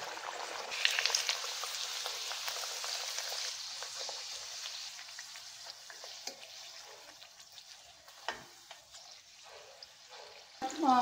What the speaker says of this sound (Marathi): आता आपण कचोऱ्या तळायला सुरुवात करूया.